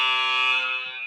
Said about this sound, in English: I got my buzzer.